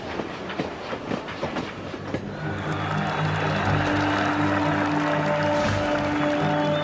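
A train rumbles along the rails, rhythmic clicking giving way to a steady, loud roar as it passes close by.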